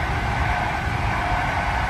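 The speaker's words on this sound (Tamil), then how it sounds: "அப்படியே ட்ரெயின் சவுண்டும் அதிகமாக இருக்குன்னு நினைக்கிறேன்." A train rolling through flat farmland and villages in the Polish countryside, heard as a steady, loud, continuous rumble and rush with no breaks and no voices over it.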